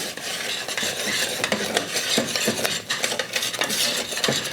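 Vanilla is stirred into bubbling Christmas crack toffee in a pot, a close, busy scraping and sizzling with utensil scrapes against the pan, steady and fairly loud throughout.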